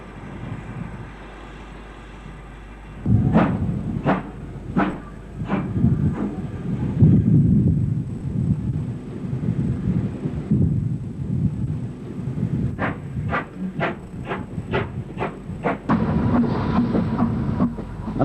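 A BR Black 5 steam locomotive, number 45191, heading south passes with rhythmic rumbling and a series of sharp regular beats, a quieter stretch in between, then another quick run of strong beats over a wind-buffeted background.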